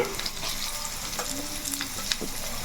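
Sliced cucumber pieces go into a pan of frying onions, giving a steady broadband sizzle with light stirring scrapes and a soft clatter near the end, with no talking.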